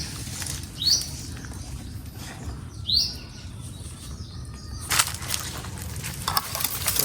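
Birds chirp outdoors near a crab burrow being dug out, with two bright tweets standing out clearly over a steady rustling, pattering ground noise and faint scattered calls.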